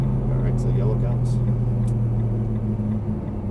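Nissan GT-R engine droning steadily on a racetrack, a loud low hum from inside the car with voices talking over it.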